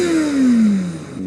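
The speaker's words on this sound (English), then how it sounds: "This person right here just revved off." A nearby vehicle revs and pulls away, its engine tone sliding steadily downward as it drives off and fades, loud and alone without talk.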